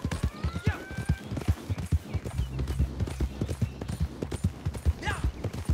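Horse hooves clip-clopping in Red Dead, a brisk uneven trot of close, hollow thuds with a short whinny near the start and another near the end.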